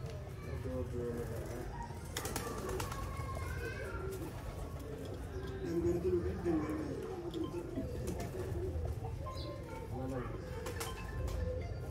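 Shy pure-bred pigeons cooing in a loft, soft repeated low throaty coos in a steady rhythm at close range, with someone talking over them throughout.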